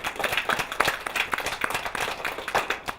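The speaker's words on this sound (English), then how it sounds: "So a big round of applause for them," Audience applauding parents and children at a Cakelicious baking competition semi-final, a steady burst of close, uneven hand-clapping from a modest crowd, continuing throughout.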